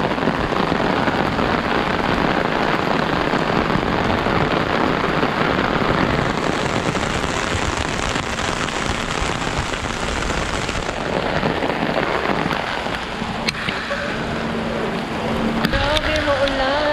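Heavy rain pouring steadily onto a road, a dense, constant hiss that stays loud and unbroken from start to finish, with faint traffic or engine noise mixed in.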